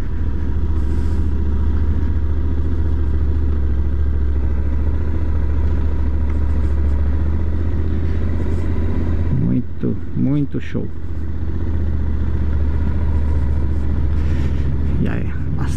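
Cars and motorcycles pass on the Serra do Rio do Rastro mountain road beneath a constant low engine rumble, with one motorcycle revving and passing close midway, while people talk throughout.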